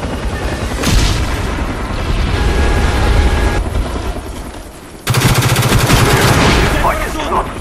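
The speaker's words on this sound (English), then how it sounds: "Napalm strike coming in hot." Napalm strike in a video game: heavy booming explosions and sustained rapid gunfire fill the whole stretch, loud and dense, with a sharp louder burst of fire midway.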